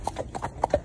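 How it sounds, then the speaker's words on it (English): Hooves of a ridden horse clip-clopping on an outdoor hack, a quick steady rhythm of about seven close, fairly loud footfalls in under a second, with no talking. "Obviously, as you can see, I'm riding Poppy."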